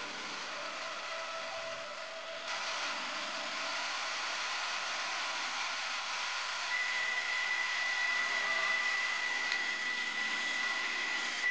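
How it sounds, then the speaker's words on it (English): A heat gun blows steadily while old solder is removed with solder wick from a water-damaged iPhone 14 Pro Max motherboard, giving a continuous airy hiss with no talking, brightening slightly partway through. "we use a solder wick and heat gun to remove the old solder until the traces are flat"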